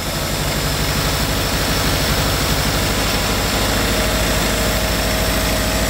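A 1960 Škoda Octavia engine idling after years of standing unused: a loud, steady, close-up running drone with a fast, even low rumble and constant mechanical vibration, no voices.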